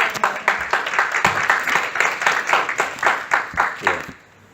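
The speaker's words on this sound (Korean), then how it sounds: "박수 한번 주세요" An audience at a church sermon applauds, rapid clapping in a dense, steady burst that stops abruptly after about four seconds.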